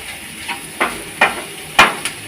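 Mixed vegetables for a pickle sauté in oil, a soft sizzle under a handful of spaced, fairly loud scraping clacks from a stirring spoon against the pan.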